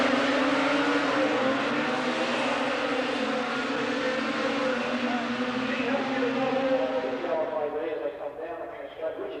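Racing cars pull away from the start of a Clubmans race at Silverstone in 1983, a loud, dense engine roar that holds steady and then fades slightly toward the end as the field draws off.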